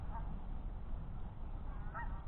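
A wild goose honks nearby, with a couple of short nasal calls standing out faintly over steady outdoor background noise.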